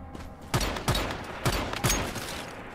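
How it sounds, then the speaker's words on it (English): Gunfire in a free-to-play survival video game: four sharp shots spaced unevenly over a few seconds, fairly quiet and distant-sounding over a low background rumble, with no talking. "they're shooting some other stuff"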